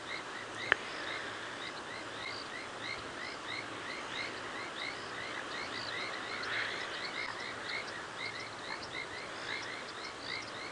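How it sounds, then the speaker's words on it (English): Frogs croak steadily through dusk rain at a dam on a South African safari drive, an olive toad's calls underlying the repeated chirps of painted reed frogs, a dense rhythmic chorus filling the background. "You can hear an olive toad croaking in the background"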